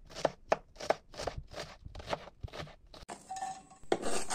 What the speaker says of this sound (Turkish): Bir tane soğan doğruyoruz.